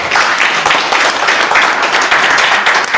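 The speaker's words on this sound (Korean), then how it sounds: "박수 한번 부탁드리겠습니다." An indoor audience in a small conference room claps steadily and loudly, a dense continuous patter of many hands filling the whole stretch without talk.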